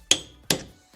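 The side of a hammer strikes a metal door hinge pin twice, sharp ringing taps about half a second apart, close and clear with a brief third faint knock.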